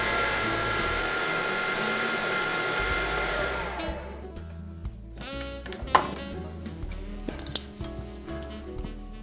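Electric mixer whirring steadily at medium-high speed through cake batter, loud and close for about four seconds, then cutting out into scattered clinks and knocks of bowl and utensils.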